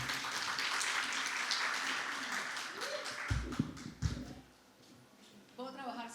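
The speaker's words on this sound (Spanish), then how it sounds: "Un aplauso, por favor, para Carolina." Seminar attendees at a storytelling and reading event give applause for speaker Carolina, clapping that fades out midway, followed by microphone bumps and handling thuds, then a voice speaking near the end.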